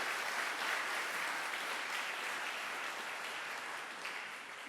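At an official opening ceremony of an APF Bureau meeting, an audience gives sustained applause for the children of Tiarei, a steady, even wash of many hands clapping that tapers slightly toward the end.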